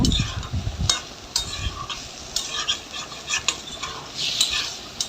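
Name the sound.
stirring and frying soybean curry in a pan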